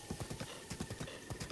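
Hooves of a horse in Breath of the Wild gallop in a steady, quick clip-clop rhythm, close and clear, with no talking over it.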